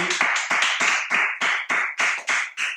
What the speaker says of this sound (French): Allez, on est applaudis.